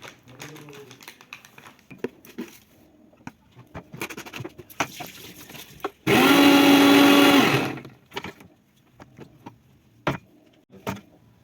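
A kitchen blender whirs loudly for about a second and a half, blending sattu (chhatu) juice, set among quieter clicks and knocks before and after.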